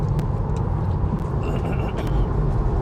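Inside a Tesla Model 3 SR+ on the move, a steady low rumble of road and tyre noise fills the cabin, with a few faint clicks and light rattles on top and no talk.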